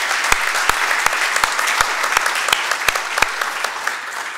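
An audience at an architecture lecture applauds the sponsor with dense, steady clapping throughout, sharp individual claps standing out near the microphone.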